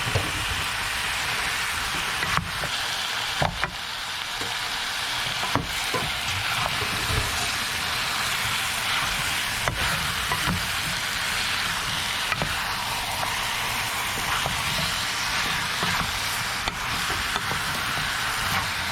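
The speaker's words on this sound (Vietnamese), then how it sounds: "Củ cải đỏ và khoai tây chúng ta sẽ cho vào xào chung luôn." Red radish and potato stir-fried together in a pan for Korean-style spicy braised chicken, a steady dense sizzle running throughout with occasional sharp clicks of the utensil, no talking.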